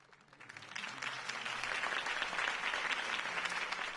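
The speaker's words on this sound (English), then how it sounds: "If only Mr. Wayne, my campaign's largest backer, could have heard that applause" Crowd applause in the video game Batman: The Telltale Series, a dense, sustained clapping that swells after the first second and holds steady and loud to the end, with no talk over it.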